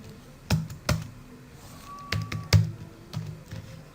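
Keys clack on a computer keyboard during data entry in MS Excel, a handful of distinct, close taps spaced irregularly, with no speech over them.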